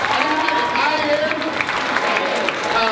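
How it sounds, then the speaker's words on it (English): Audience applause at a school Hope Week leadership event, dense clapping and crowd noise filling the short stretch with voices mixed in over it. "Everyone give her a round of applause."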